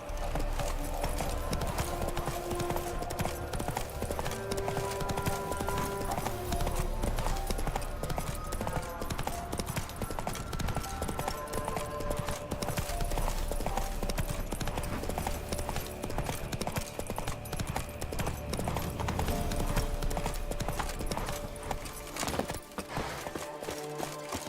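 Roach, the horse in The Witcher 3, trots with a continuous loud clip-clop of hooves over background music, with brief bits of speech.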